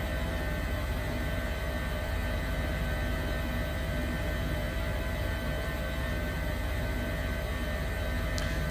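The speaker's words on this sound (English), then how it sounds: "All engines started successfully." Simulated twin-engine start of an Airbus H145 air ambulance helicopter in Microsoft Flight Simulator, a loud, dense, steady whine and roar that holds evenly throughout with no speech.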